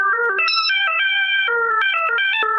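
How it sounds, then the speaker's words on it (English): An open-source musical instrument app on a phone, tablet or computer plays a bright, synthetic electronic melody of stepping, warbling tones, loud and continuous throughout with no voices. "It's basically a musical instrument that runs on your phone or tablet or computer."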